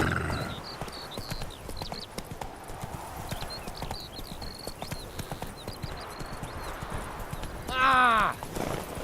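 Roach, a horse in The Witcher 3, gallops with quick rhythmic hoofbeats that stay steady and fairly near, with a short loud vocal burst near the end.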